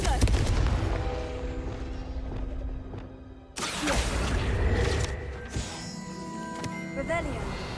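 A Confringo fire spell blast in the video game Hogwarts Legacy, a loud burst of booming, crackling impact noise that cuts in sharply mid-clip over a busy bed of game sounds and music.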